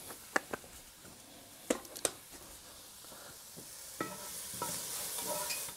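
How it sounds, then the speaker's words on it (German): Onions sizzle softly in hot fat in a Dutch oven, punctuated by a few sharp clicks of a utensil stirring, the hiss growing louder toward the end. "Die werden jetzt schön in dem Fett angebraten."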